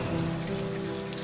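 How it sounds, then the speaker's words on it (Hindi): Heavy rain falling steadily near a cottage, a dense unbroken hiss of drops on surfaces at moderate loudness, with no voices. "तेज बारिश की आवाज़ शर्मा जी की आवाज़ से जीत गई"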